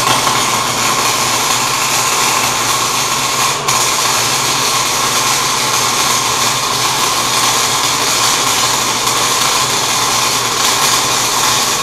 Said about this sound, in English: I'm going to lay down a bead that hopefully is going to tie into this metal a lot better